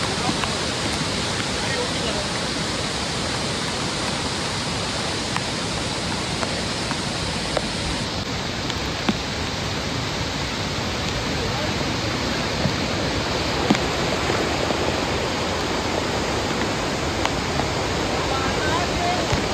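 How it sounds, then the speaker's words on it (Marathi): A waterfall swollen by heavy rain roars loud and unbroken as a dense, close wash of rushing water that fills the whole scene. "धबधब्यावर आवाज एवढा प्रचंड होता की मी काय बोलते तुम्हाला मे बी ऐकूही आला नसेल"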